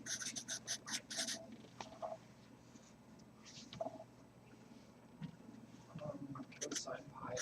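A marker squeaks and scratches on a classroom whiteboard in quick strokes at the start, then fainter strokes come amid a teacher's speech.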